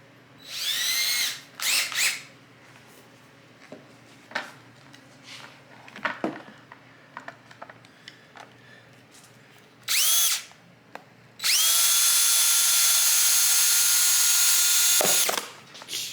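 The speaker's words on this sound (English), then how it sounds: "I'm going to use a drill bit." A power drill fitted with a 3/16 bit bores into a Magic John screen protector in short, loud whirring bursts, ending with one long sustained run of the drill.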